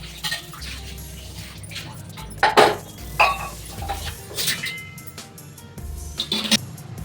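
Dishes, pots and utensils being washed in a home kitchen sink, with irregular clinks and clatters of metal and crockery over running water, several sharper knocks standing out near the middle and end.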